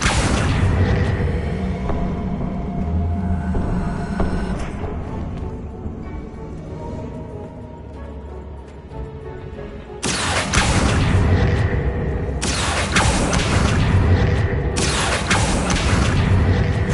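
Bombarda explosion spells cast in Hogwarts Legacy, heavy booming blasts with rumbling low end, a dense barrage at the start, then quieter game ambience before more loud bursts return near the end.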